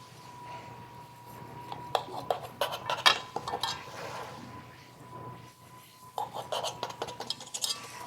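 Knife slicing and lifting pieces of brown butter skillet cornbread from a pan, giving close, intermittent clinks and scrapes of metal on the skillet in two bursts, with a faint steady hum underneath.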